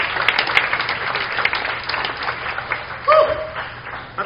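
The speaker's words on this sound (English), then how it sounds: "Come on, the best clap of praise to the Lord for that" A church congregation at a Sunday service claps in praise, a rolling spread of hands through a hall with a voice calling out over it, moderately loud.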